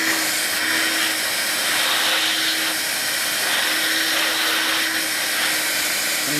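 A Vax Air Cordless Lift Duo U85-ACLG-B cordless upright vacuum runs in boost mode. It gives a loud, steady, unbroken whir with an airy high hiss and a faint low hum throughout.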